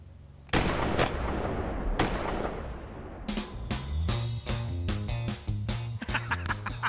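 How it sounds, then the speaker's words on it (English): An old pistol fires with several sharp, loud cracks in the opening seconds, then a burst of rapid repeated gunfire-like bangs over a booming, tonal background, close and very loud. "Can you just fire the damn thing already?"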